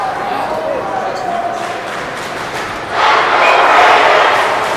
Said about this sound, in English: Let's go Raiders, the chant from the Somerset-Berkley crowd